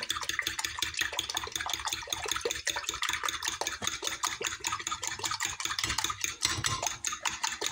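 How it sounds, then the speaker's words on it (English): Eggs are beaten in a bowl for a cauliflower tortilla, making a fast, steady, rhythmic whisking clatter that runs without a break for several seconds with no speech. "And I'm going to beat the egg."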